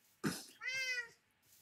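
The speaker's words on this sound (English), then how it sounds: "I can't get over the fact that there's a cat." A cat in the video game Minecraft gives a brief sharp sound followed by a clear, drawn-out meow lasting about half a second, close and fairly quiet.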